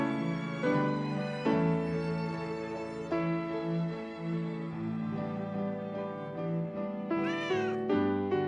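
A kitten in Final Fantasy VII Rebirth meows repeatedly in drawn-out, tonal cries that come as a series of note-like calls, with a sharp, rising squeal near the end.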